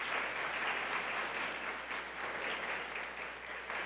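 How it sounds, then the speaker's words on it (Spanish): A church congregation applauds during a sermon, a dense, steady wash of many hands clapping at moderate distance that holds without a break, with no voices over it. "Denle un aplauso al Rey de Reyes."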